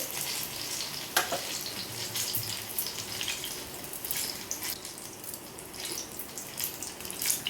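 Capsicum and tomato stuffed pakoras fry over low heat in oil, a steady crackling sizzle with occasional sharper pops and a utensil tap early on, close and even throughout.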